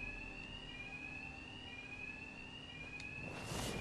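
A continuous electronic alarm rings steadily in Batman: Arkham Knight, a high sustained tone running unbroken from start to finish over a low hum, with a brief rise in noise at the very end.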